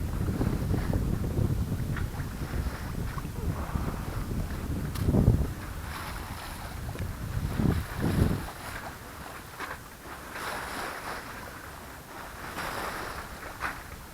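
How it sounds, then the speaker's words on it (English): A sailboat under sail on the Manatee River near Tampa Bay, with steady wind rush and water washing against the hull, a few louder gusts or wave slaps breaking through the continuous outdoor noise. "The sailing is real nice, real peaceful."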